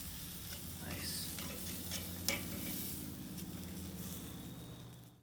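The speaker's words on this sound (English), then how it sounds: "these have been searing about a minute per side" Thick-cut bone-in pork chops searing on a Weber kettle grill give a steady, close sizzle and crackle, with a brief sharp tick midway and light background noise throughout.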